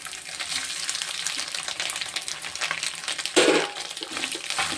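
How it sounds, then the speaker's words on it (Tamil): Grated coconut stirred with softened onions in a hot pan gives a steady broadband sizzle with scraping spoon strokes, a louder burst of frying about two-thirds through, no voices. "இதை வந்து நல்லா வதக்கிக்கணும்"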